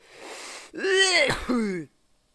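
A man lets out a single loud, voiced sneeze while playing an online shooter, preceded by a breathy inhale, with the burst lasting about a second before silence.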